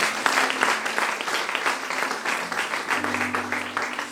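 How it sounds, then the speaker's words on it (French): A church congregation claps and cheers for the Lord in steady, dense applause that stays loud and close throughout, with a sustained tone underneath. "Est-ce qu'on peut acclamer les Seigneurs?"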